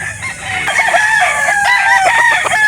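A Golden Boy bloodline rooster at a live poultry market in Calauan, Laguna crows loudly and close, a strained drawn-out call with clucking from other birds around it.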